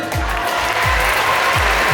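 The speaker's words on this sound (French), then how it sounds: "on peut l'applaudir" Audience clapping in the Grand Rex theatre during a live show, dense and steady for the whole two seconds, with repeated low thumps pulsing beneath the applause.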